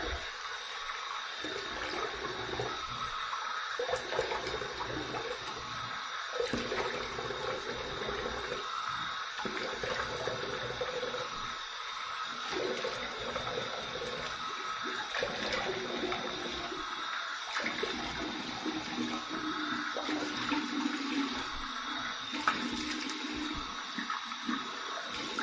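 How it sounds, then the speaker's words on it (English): Water runs and drains steadily in a bathroom sink during a head shave rinse, a continuous hiss and gurgle lasting the whole stretch with small shifts in flow. "Let me drain some of this water out of here."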